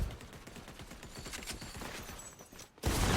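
The Dragon's Breath AR, an exotic assault rifle in Fortnite, fires a fast continuous burst of shots, loud and close, with no talking over it, then gives way to a sudden wash of broadband noise at the very end.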